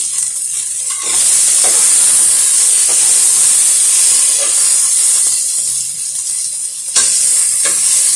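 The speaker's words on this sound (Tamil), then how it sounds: "ஒரு நிமிஷம் லேசாக வதக்கி விட்டுடலாம்." Onions sautéing in oil in a pan with a pinch of salt, cooked for egg biryani: a steady, loud sizzle that starts after a moment of quiet and continues evenly, with a brief stir partway through.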